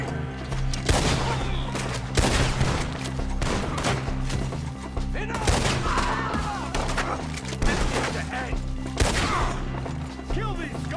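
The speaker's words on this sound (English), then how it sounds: "Shoot the ones up there first!" Gunfire in Red Dead Redemption 2 during an outdoor shootout, repeated loud rifle and pistol shots cracking at irregular intervals through the whole stretch, under shouted voices and game music.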